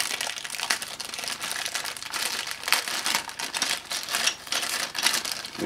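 A small plastic bag of toy Dyson DC22 cylinder vacuum parts by Casdon crinkles and rustles as it is handled, with busy close-up crackling and brief crunchy bursts, no voices.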